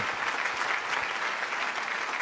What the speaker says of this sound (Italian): Grazie, eh, l'applaudo io per primo.